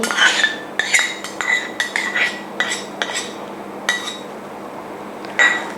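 Metal utensils clink and scrape against a dish while sour cream is poured and mixed into a tartar sauce, with a series of sharp, close taps and chimes in irregular bursts and no talking.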